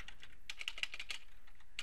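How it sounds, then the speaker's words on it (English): Quick bursts of typing on a computer keyboard, close and fairly quiet, with irregular clusters of key clicks and a short pause before a final few taps. "I'm just going to type in"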